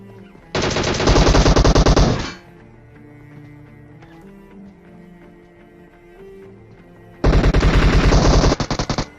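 Two long bursts of rapid automatic gunfire from a battle royale video game, loud and close, separated by a quieter stretch of game ambience; no one speaks.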